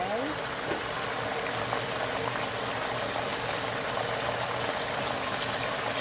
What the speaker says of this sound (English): Now I'm going to add my rice into hot boiling water.